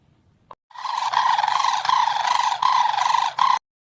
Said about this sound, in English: Their voice isn't a simple chirp or song. It is a resonant, rattling trumpet that can carry for miles.